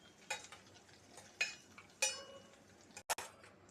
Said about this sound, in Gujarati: એને સારી રીતે હલાવી લઈશું